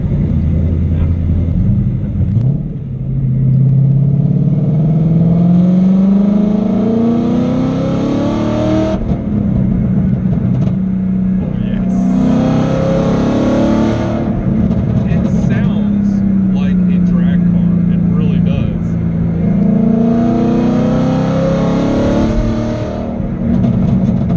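A 2011 Ford Mustang engine droning loudly while driving in third and fourth gear, revs rising and falling in repeated long sweeps with steady road rumble throughout, close and continuous.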